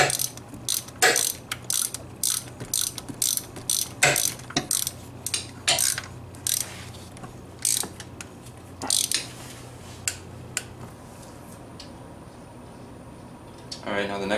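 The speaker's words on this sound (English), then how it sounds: "We'll go back in and tighten those bolts all down" A ratchet tightens the 14 millimeter bolts during a Honda Civic D series timing belt replacement, with repeated bursts of sharp close clicking separated by short pauses.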